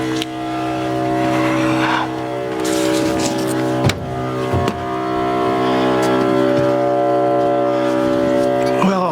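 A diesel fuel transfer pump on a Ram 3500 dually truck runs with a loud, steady whining drone full of sustained tones, interrupted by a few sharp knocks, with someone talking over it.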